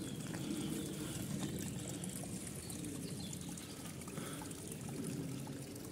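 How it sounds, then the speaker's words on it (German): Small mountain streams near Walchensee in Bavaria trickle and splash down from the hills in a forest, a soft steady babble close by, with faint birdsong in the background. "Überall aus den Bergen so kleine Flüsschen raus, die dann runterfließen in den großen."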